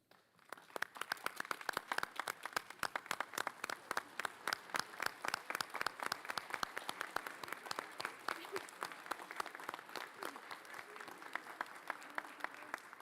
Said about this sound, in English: please stand and join me in one final round of applause for our inductees